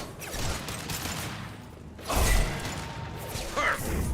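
Mechs fire guns in Mass Effect 2, with clattering mechanical bursts and sharp impacts over a busy game background and a louder burst of shots midway.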